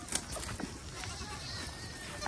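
Goats bleating on a farm, with short bleats through steady rustling and background noise, and a person talking nearby.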